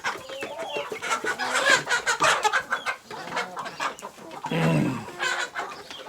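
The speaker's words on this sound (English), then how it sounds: "that's our bantam rooster" A small rooster clucks and squawks in quick, agitated bursts, close by, with other fowl calling among the repeated cackles.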